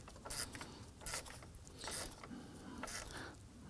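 A hand ratchet snugs down the mounting bolts of a new AC condenser on a 2003-2014 Volvo XC90 3.2L, giving short bursts of close clicking with brief pauses between strokes.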